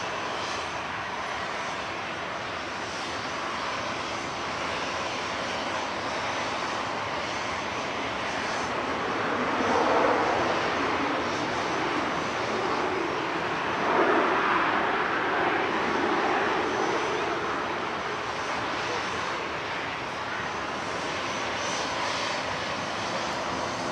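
Ryanair jet airliner flight from Brussels Charleroi at Manchester Airport, a steady broadband engine roar at a distance that swells slightly twice midway and otherwise holds an even rumble throughout.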